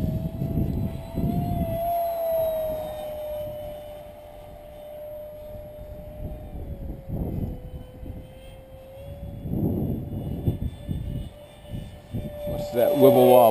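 An EDF Air Hog RC plane flies past with a steady, high electric ducted-fan whine that dips and swells as it passes, over wind buffeting and a rising surge near the end.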